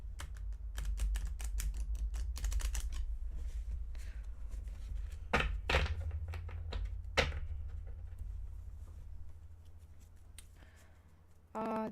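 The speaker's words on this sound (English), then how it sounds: "method to actually shuffle the cards without to actually do this" A deck of playing cards being shuffled by hand: a quiet riffling patter with a few sharper, louder flicks and snaps in the middle, close up, with no talking.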